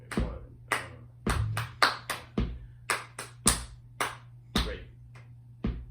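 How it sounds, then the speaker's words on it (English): Hands clapping a simple repeated rhythm, about a dozen sharp, close claps in an uneven pattern over a steady low hum. "Clap this rhythm for me."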